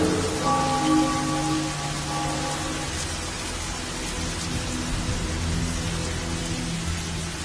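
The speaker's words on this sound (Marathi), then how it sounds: "पाऊस पडतोय" Steady rain hisses evenly throughout, with faint sustained musical tones drifting in the background.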